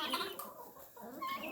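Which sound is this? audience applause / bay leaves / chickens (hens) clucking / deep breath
chickens (hens) clucking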